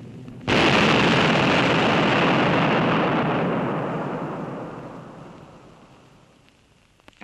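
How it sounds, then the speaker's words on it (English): A Tallboy big bomb blasts near a railway viaduct, heard in archival wartime film: a sudden massive roar that bursts in and rumbles on, slowly fading over several seconds with no voices. "A feature of the big bomb is the crater it makes before it goes off."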